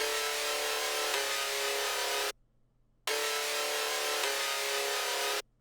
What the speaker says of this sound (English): First thing we're gonna do is lay down some juicy, thick chords.